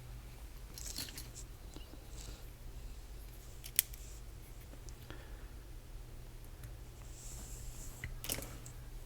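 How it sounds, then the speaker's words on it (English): A piece of solder wire is snipped with cutters at an electronics repair bench while fixing broken charging pads on a Nintendo Switch: a few sharp, quiet clicks and snips over a low steady hum, with no talk. "So we're going to start by cutting a piece of this wire here."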